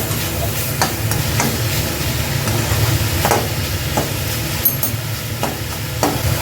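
Chicken fries in a pan with a steady, close sizzle, broken by the soft scrape and clatter of a utensil stirring it at irregular intervals.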